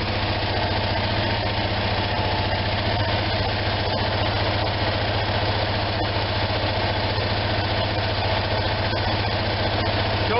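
Onan generator engine idling steadily after a carburetor rebuild, a constant low rumbling drone with even vibration, close and uninterrupted for the whole stretch.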